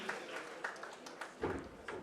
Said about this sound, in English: Big round of applause for this team again